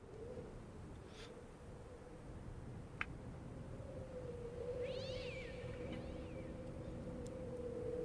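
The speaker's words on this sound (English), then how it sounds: "That sounded like a cat" A cat's meows in the Secret Files: Tunguska video game, faint and brief, a couple of rising-and-falling cries over a low steady hum and background murmur.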